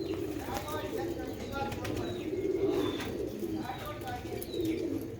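Old Sialkoti pigeons coo in repeated throaty rolls, close by, with short chirps and a brief wing flutter, while someone talks over them.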